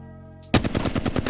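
A Flatline assault rifle in Apex Legends opens fire after a quiet moment, a loud close burst of rapid, evenly spaced automatic shots continuing without pause.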